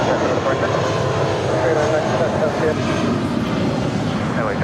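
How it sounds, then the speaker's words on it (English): A United Airlines Airbus A320 departs LAX bound for San Francisco, its jet engines producing a steady, broad roar that holds for the whole stretch, with radio voices talking faintly underneath. "1977 departing to San Francisco. That is an A320."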